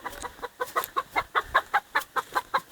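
Local chickens in a small farm pen cluck in a steady, rhythmic series of short, even bursts, close by and fairly clear against a quiet outdoor background.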